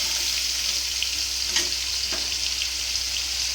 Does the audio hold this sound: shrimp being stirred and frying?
yes